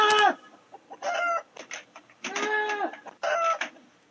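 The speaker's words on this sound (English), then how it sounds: "Man got chickens and everything." Several chickens cluck and squawk in short bursts, close by and fairly loud, with brief pauses between the calls.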